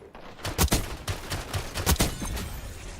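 Rapid gunfire from Black Ops 6 multiplayer rattles out in a quick string of sharp, loud shots, roughly a dozen reports packed into a couple of seconds, with no talk over them.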